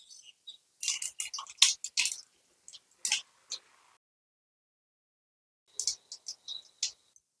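Nigella seeds (kalo jeera) dropped into hot oil for tempering, giving bursts of sharp crackling and popping that die away to silence, then a second shorter flurry of sizzle.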